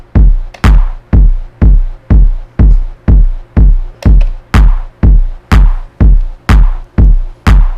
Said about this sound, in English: So we got our kick and our clap in there.